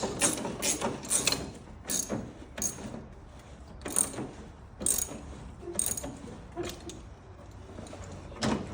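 A ratchet tightens the drive belt on a riding mower: bursts of sharp, close metallic clicking arrive in quick runs separated by short pauses, with no talking.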